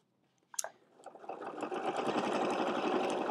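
A sewing machine stitches down a seam on a fabric basket, its motor starting up and then running in a steady, fast, rhythmic whir close by, with no talking.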